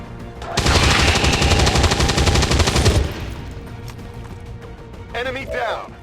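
Sustained automatic gunfire in the video game XCOM 2: a loud, rapid burst of shots lasting a few seconds close up, followed by quieter clatter and a short electronic chirp, with a voice talking over part of it.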